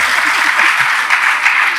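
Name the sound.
audience clapping loudly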